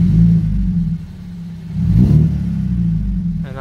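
A 2009 BMW 120i convertible with a performance exhaust and sport cat upgrade, its engine idling with a deep, bassy rumble that swells briefly as it revs, heard close and loud.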